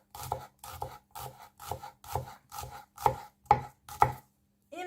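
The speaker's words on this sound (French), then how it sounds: "Coupez grossièrement l'échalote." A knife roughly chopping a shallot on a board, about nine evenly spaced crisp cuts, the last few sharper and louder, close up with no talk.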